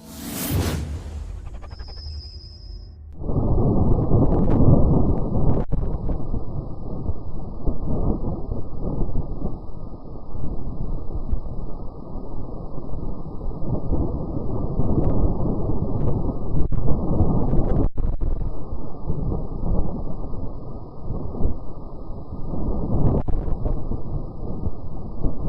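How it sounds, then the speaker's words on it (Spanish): Martian wind recorded by the NASA InSight lander, a low steady rumbling whoosh that fades in after a short burst and continues in slow gusts, muffled and filtered-sounding. "Por fin se ha podido enviar el sonido del viento de Marte."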